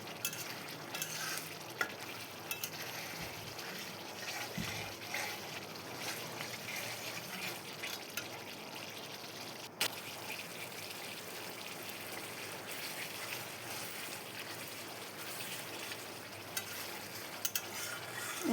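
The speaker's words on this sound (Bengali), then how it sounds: "এখন আমার মশলা কষানো হয়ে গেছে প্রায়।" Spice masala fries and sizzles in a pan for a soya chunk dish, a steady close hiss with occasional stirring scrapes.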